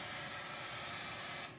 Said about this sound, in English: You'll spray it in the inlet,